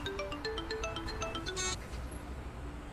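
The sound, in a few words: phone ringtone, incoming call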